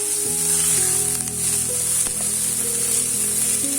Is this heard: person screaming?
no